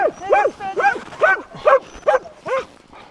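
Sled dogs on a snowy trail bark, yip and whimper in a run of about six quick, close, high-pitched bursts, with light background noise between the cries.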